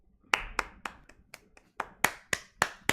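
About ten sharp hand claps in an uneven rhythm, some close together and some spaced apart, near and fairly clear over a quiet background, with no talking.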